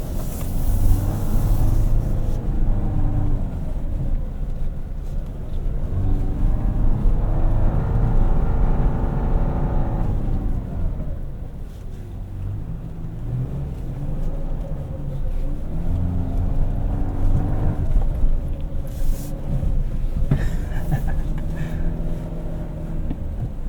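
A 2025 Toyota 4Runner TRD Off-Road Premium crawling along an off-road course, its engine rising and falling in a steady broadband drone with continuous rumble and rubbing from the suspension and tyres, heard from inside the cabin.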